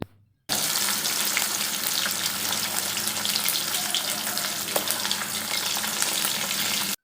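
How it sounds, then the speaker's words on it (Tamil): Sardines drop into hot oil for a fish curry, and after a brief silence a loud, dense frying hiss starts abruptly and holds steady, crackling close by. "நல்லா எண்ணெய் காஞ்ச பிறகு கொஞ்சம் சிம்மில் வச்சுட்டு ஒரு பாதி அளவுக்கு வச்சுட்டு இந்த மீனை போட்டுடலாம்"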